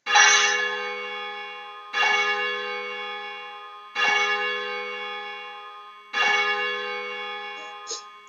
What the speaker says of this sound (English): check that your bell works, and also to listen to the sound of your bell